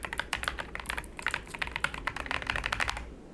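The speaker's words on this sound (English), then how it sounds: "I got a new keyboard recently, and it's so great. I don't know if you can hear it" Rapid typing on a new computer keyboard, close and crisp, with a steady stream of individual key clacks over about three seconds before stopping.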